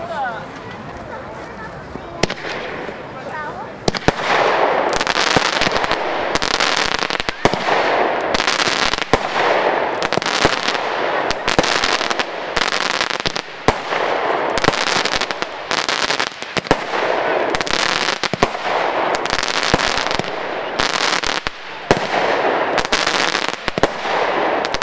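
A cheap consumer fireworks battery (cake) fires a long, rapid volley of loud crackling bangs that keeps going steadily for over twenty seconds.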